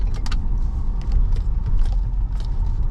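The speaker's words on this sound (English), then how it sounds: "This Ford Police Interceptor is extremely fast accelerating vehicle." A 2015 Ford Explorer Police Interceptor Utility SUV, four-wheel drive and unmarked, rolls along a street with a steady close engine and road rumble, plus faint clicks and rattles on top.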